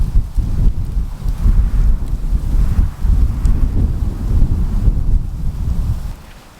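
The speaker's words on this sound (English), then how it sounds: "obviously it's pretty windy, so apologize for the audio" Strong wind buffets the microphone outdoors with a loud, continuous low rumble that surges and dips before easing off at the end.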